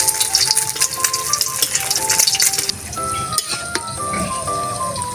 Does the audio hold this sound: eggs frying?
yes